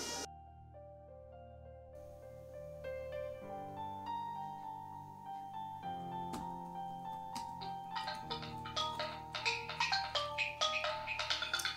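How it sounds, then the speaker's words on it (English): A phone ringtone plays a melodic electronic tune that builds over about twelve seconds, faint and steady with no voices. "your phone is ringing."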